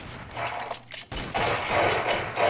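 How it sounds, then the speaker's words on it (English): Gunfire from shooting zombies in the Roblox game COD Zombies, loud bursts of shots that dip briefly to near silence partway through and then resume as a sustained barrage, with no voices over it. "we were just sort of shooting zombies, as you do"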